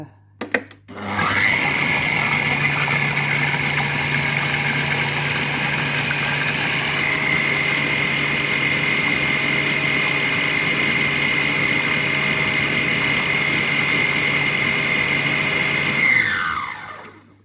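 Compact Cook Pro food processor running at speed 6 while making a carrot flan: a steady, loud, high motor whine that starts abruptly, holds evenly for about fifteen seconds, then winds down, with no talking.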